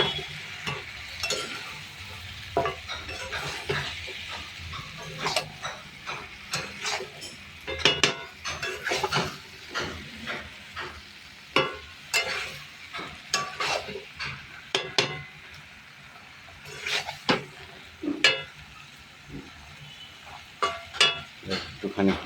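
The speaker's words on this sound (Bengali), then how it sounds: "এবার এটাকে মশলাটাকে ভালো করে কষাবো।" Spices and lightly boiled dal stirred and fried in a pan, a spoon scraping and clinking against the metal in an irregular rhythm over a faint sizzle, close by, with a voice talking at times.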